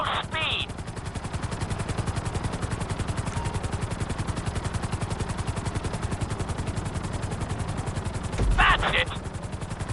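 A helicopter flown in GTA V gives a rapid, steady rotor chop throughout, loud and close, with brief bursts of other game sounds near the start and end.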